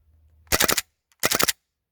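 A gas-powered airsoft gun fires two quick three-shot bursts at a range, each a tight cluster of sharp, close pops separated by a short silence.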